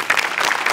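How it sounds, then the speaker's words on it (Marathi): A studio audience at a Marathi comedy show breaks into a short burst of applause for the sets and music. The clapping is close and lively, and no voices are heard. "आज विशेष करून सेटिंग आणि म्युझिक डिपार्टमेंटसाठी टाळ्या वाजवल्या पाहिजेत"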